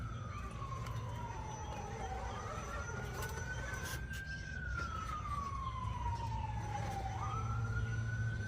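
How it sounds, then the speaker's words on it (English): A wailing police siren sweeps up and down in long, steady glides as it passes, loud and continuous over a low rumble of traffic. "Oh man, the sirens, they're coming to get us."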